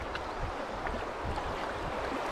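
River water of the Bear River rushes and burbles past a canoe, a steady nearby flowing wash with soft irregular splashes, moderately loud and without voices.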